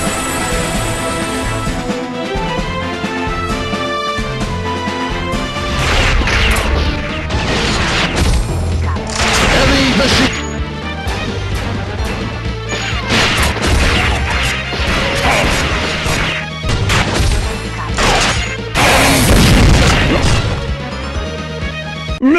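Rocket launcher blasts in Metal Slug, a run of loud punchy explosions and crashes layered over arcade music, bursting repeatedly in clusters throughout.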